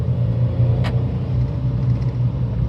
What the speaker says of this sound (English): It's difficult to drive one-handed when the car keeps pulling to the left. That's third gear.